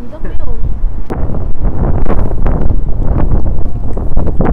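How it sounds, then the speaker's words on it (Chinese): Strong wind buffets the microphone on a hilltop stairway up to the Koxinga statue on Gulangyu island, Xiamen, a rough steady roar throughout with a voice over it. "我而家有啲大风啊"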